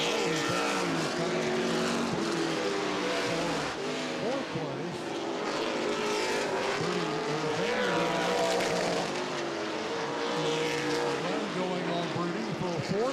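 Late model sportsman stock cars race around a corner at Anderson Speedway, their engines roaring and shifting in pitch as they pass close together, with an announcer talking over the noise throughout.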